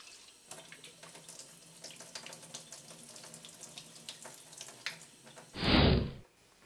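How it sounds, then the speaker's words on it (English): Tap water runs hard into a sink as an empty beer can is rinsed, a loud close gush near the end after quieter handling clatter. "Make sure you rinse it clean."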